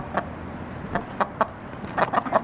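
Chickens cluck in short, irregular bursts nearby, a few soft calls at first, then a quicker cluster of clucks toward the end.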